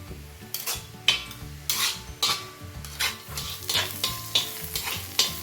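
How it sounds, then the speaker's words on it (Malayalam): Onions sautéing in a pan for egg masala with ginger garlic paste: a constant sizzle under a steady, rhythmic scrape-and-stir of a spoon against the pan, roughly once a second, close by. "സവാള ഇവിടെ വഴണ്ടി വരുന്നുണ്ട്."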